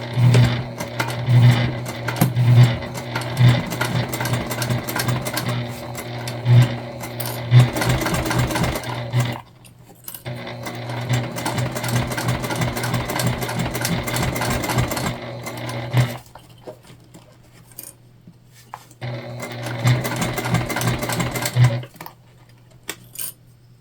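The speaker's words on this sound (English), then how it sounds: "You will probably hear my machine struggle." A domestic sewing machine labors through thick layers of bag fabric, producing rapid mechanical stitching bursts broken by short pauses, with a steady whirring underneath and an uneven, struggling rhythm.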